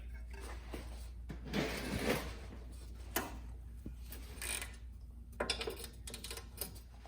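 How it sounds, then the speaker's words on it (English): A long ratchet working on tight 18mm bolts at the front wheel bearing carrier of a BMW E39, giving irregular metallic clicks and clanks close to the microphone in short bursts with quiet gaps between. "get your longer ratchet out for this one because they are typically on pretty tight"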